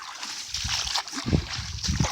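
Someone wades across a cold creek while out beaver trapping in Alabama, water sloshing and splashing around their legs in a few uneven surges, close by, with no talk.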